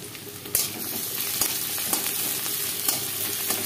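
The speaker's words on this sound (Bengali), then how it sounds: "আর ততক্ষণে পেঁয়াজটা ভাজা হোক।" Onions fry in a hot pan for a Bengali chicken biryani, a steady loud sizzle with occasional stirring scrapes, close up and with no talking.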